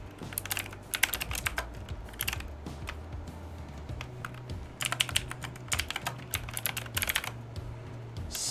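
Rapid keystrokes on a computer keyboard, fairly close, tapping in uneven bursts with short pauses while a mouse is also in use; no talking.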